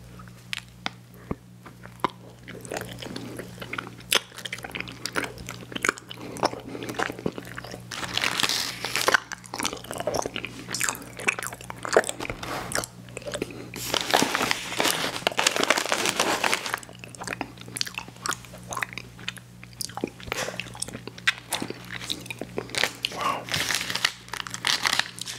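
Someone bites into and chews an ice cream sandwich cookie close to the mic, with repeated crisp crunches and crinkling wrapper sounds in an irregular rhythm.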